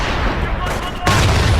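Gunfire from the video game Company of Heroes, set in a wartime assault on gun crews, with a dense crackle of rifle and machine-gun fire that swells into a heavier burst midway, loud and continuous.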